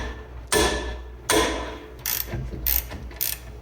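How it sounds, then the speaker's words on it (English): A ratchet wrench works a 17mm caliper bracket bolt on the rear brakes of a 2011 Mazda CX-7, giving two loud sharp clicks and then several quicker, lighter ratcheting bursts close to the mic. "So I'll start by loosening up the top bolt."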